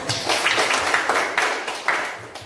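Students in a classroom clap briefly, a short burst of scattered hand claps that fades within a couple of seconds.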